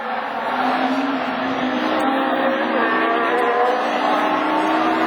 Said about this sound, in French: Il est sur 3 cylindres, elle n'avance plus, la Honda.